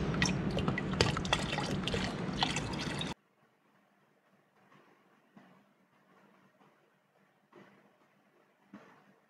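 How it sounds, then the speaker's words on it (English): Fresh water poured into a small fish tank, a loud steady splashing pour for about three seconds that stops abruptly, followed by faint scattered drips and small knocks. "Now I am pouring fresh water into the fish tank."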